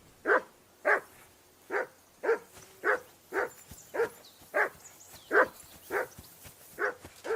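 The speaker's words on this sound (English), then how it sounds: "I assume you can hear that damn dog of yours barking." A dog barks in Kingdom Come Deliverance II: about a dozen evenly spaced single barks, fairly loud and steady, with no talk over them.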